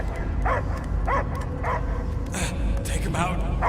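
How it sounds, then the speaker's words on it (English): A dog barks and whimpers in a few short, yapping bursts in Marvel's Guardians of the Galaxy video game, set against a busy game soundscape while voices talk over it. "I hear only barking."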